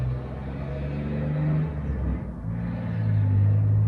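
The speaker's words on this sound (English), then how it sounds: "can hear the cars going by with my open window" Traffic rumbles past at a distance, cars swelling and fading one after another in a low, continuous whoosh heard from indoors.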